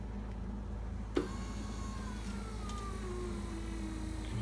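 A small electric motor on a homemade mini skid steer strains while running on thin wires, giving a steady, close whine whose pitch slowly drifts, with a sharp click near the start and no talking.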